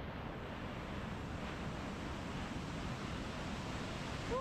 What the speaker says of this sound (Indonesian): di sini juga dekat sungai.